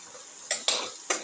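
Turmeric and chili powder being sautéed and mixed in a pan for a ginger potato tomato casserole, heard as a few short, quiet scraping stir strokes over a faint background.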